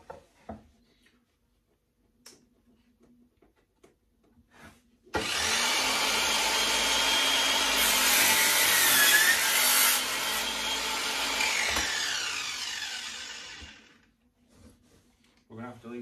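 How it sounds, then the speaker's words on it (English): A Vonhaus 20V Max cordless mitre saw spins up and cuts through a piece of wood, a loud, sustained whining roar lasting about nine seconds before winding down, with quiet handling sounds around it. "let's see how well the Vonhaus 20 volt max cordless saw cuts"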